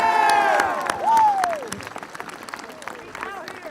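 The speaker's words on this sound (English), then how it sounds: "Please give the class of 2019 a round of applause." A crowd at the Patrick County High School class of 2019 graduation claps in scattered bursts, while loud whoops and cheers rise above it, and the sound fades over a few seconds.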